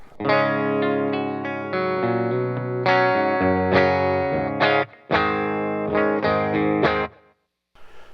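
A clean electric guitar, amp preamp with a cab sim, strums a series of ringing chords, loud and close, with brief pauses between phrases and a final note fading out.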